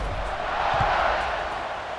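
A stadium crowd in the College Football 26 video game rumbles and murmurs steadily as a moderate background roar before a kickoff, with a faint swell near the middle and no clear cheering peaks.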